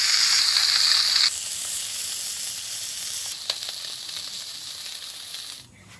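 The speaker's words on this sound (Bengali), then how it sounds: "তো তেল গরম হয়ে গেছে, বাইলা মাছগুলো দিয়ে দিই। এইভাবে সব মাছগুলো আমি ভেজে নেব।" Small baila fish frying in hot oil in a village kitchen pan, a loud bright sizzle at first that settles into a steady softer crackle, no talking.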